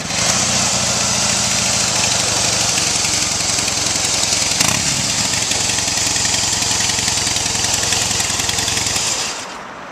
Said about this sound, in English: Nothing beats that Harley-Davidson sound, does it?